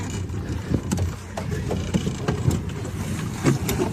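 Small boat moving on open water, engine rumble and water wash mixed with wind buffeting, steady and fairly close, no talk over it.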